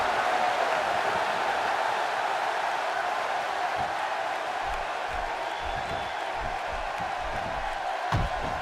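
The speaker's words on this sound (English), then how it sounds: "The crowd on hand tonight clearly fired up for this match here on Superstars." A wrestling arena crowd from the WWE 2K16 video game roars in a steady, dense wash of cheering and murmur, with faint claps and thumps near the end.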